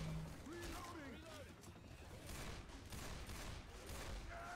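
Rapid gunfire bursts from the Left 4 Dead 2 co-op shooter on the Cold Stream campaign, rattling steadily through the whole stretch at moderate level, with a player talking over it.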